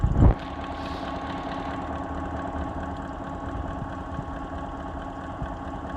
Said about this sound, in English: Sometimes I'll just crank up the pump a little bit at this point, all the way to high.